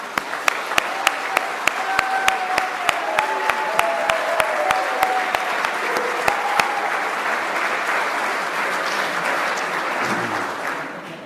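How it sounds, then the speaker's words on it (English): A conference audience in Dubai gives a steady round of applause, dense and sustained for about ten seconds before fading, with faint voices beneath and a regular ticking click throughout. "Let's give a round of applause to them."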